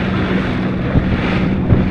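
A FishPro Scout boat crosses choppy waves on Lake Winnebago at about five miles an hour, with a loud steady wash of water, splashing over the bow and wind rushing past the microphone.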